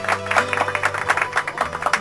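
Brief burst of applause from a small crowd on a Grand Theft Auto talk radio show, a patter of clapping lasting a couple of seconds at moderate volume.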